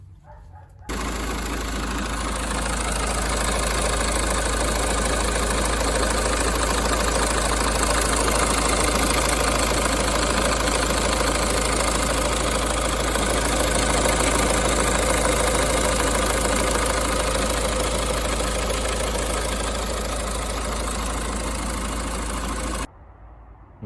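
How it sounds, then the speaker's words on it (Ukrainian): A Renault 1.9 dCi diesel engine idles steadily and continuously, a loud low rumble with a faint knocking rhythm throughout, no voices. "мотор працює справно, форсунки вже не пчихають, нічого не димить"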